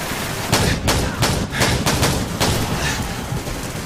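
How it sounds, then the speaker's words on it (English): Rapid weapon fire in Call of Duty 4, a string of loud, evenly spaced shots booming close over dense battle noise, roughly eight blasts in under four seconds. "Really, all of the weapons are good, it's just that some of them sound inherently better than others."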